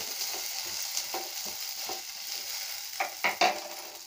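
Garlic and ginger sizzle and fry in a pan for a village-style chicken curry, a steady crackling hiss with a few louder stirring scrapes near the end, close and with no talking.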